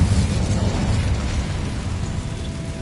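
Fire spell cast in Hogwarts Legacy, a steady roaring, crackling burst of flame that stays loud and dense throughout, with deep rumbling low end and no voices.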